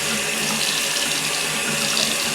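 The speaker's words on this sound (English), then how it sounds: "Okay, so I'm going to rinse it off." Tap water runs steadily into a sink as face cleanser is rinsed off during a morning skin care routine, a continuous close splashing hiss with no talk.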